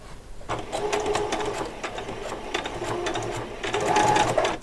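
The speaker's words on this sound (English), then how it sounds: "So I do a few stitches on," A sewing machine stitches fabric for a doll's coat, running continuously with a close, rapid mechanical whir for several seconds without speech.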